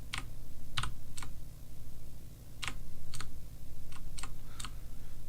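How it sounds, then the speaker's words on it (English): Keys on a computer keyboard tapped at random in a quiet room: sharp, close clicks, singly and in quick pairs, spread irregularly over a steady low hum. "For the next 10 minutes, I will be randomly tapping my keyboard."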